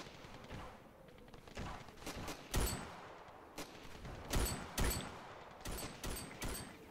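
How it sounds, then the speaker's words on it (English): Uzi 9mm gunfire in the video game Ravenfield, sharp shots in short irregular bursts and single cracks, moderately loud and close, with no talk over them. "He shot me with the Uzi 9mm"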